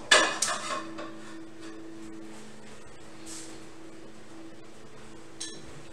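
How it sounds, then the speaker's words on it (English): A large non-stick skillet clanks down onto a kitchen stove with a sharp metallic knock and a few rattling clinks, then near quiet with a faint steady hum and one small clink toward the end. "get a frying pan on. Got a large non-stick skillet here."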